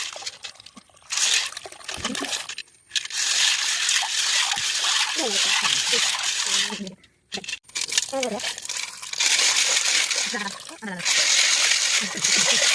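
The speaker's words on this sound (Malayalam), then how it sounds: "നമ്മൾ നന്നായി തോന വെള്ളത്തിൽ കഴുകിയിട്ടുണ്ട്." Beans being washed by hand in a vessel of water: bursts of splashing, swishing and trickling come and go in several rounds, separated by short pauses, with a voice talking over parts of it.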